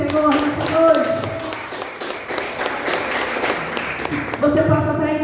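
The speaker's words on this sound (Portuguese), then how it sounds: "Você pode aplaudir ao Senhor nessa noite." A church congregation applauds during an evening service, a dense spread of clapping filling the room with voices and sustained tones mixed in throughout.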